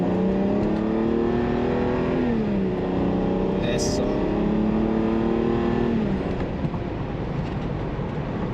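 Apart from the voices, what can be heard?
BMW car accelerating on test drive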